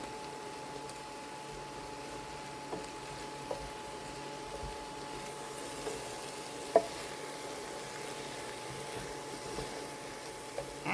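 Small diced potatoes fry in a skillet with sausage and vegetables, a faint steady sizzle with occasional soft pops and light clicks of stirring.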